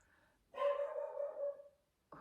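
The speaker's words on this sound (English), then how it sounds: "Oh, that dog." A dog gives one drawn-out bark or howl that stretches over about a second, somewhat distant and moderately loud, with a short sharp sound cutting in at the very end.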